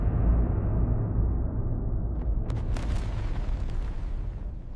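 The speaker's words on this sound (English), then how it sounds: "A violent high-frequency bang tears through the ocean, traveling endlessly through the sound channel." A deep, rumbling submarine implosion boom rolls on as a sustained low roar, with scattered crackling bursts breaking through in the middle before slowly fading; loud and with no talk.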